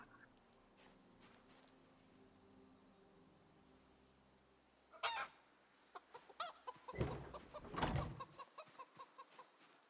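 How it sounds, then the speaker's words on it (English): Chicken clucking in the Project Zomboid video game, a quiet stretch giving way to a burst of rapid, choppy clucks and squawks in the second half, close and fairly loud. "This chicken is basically made out of chicken."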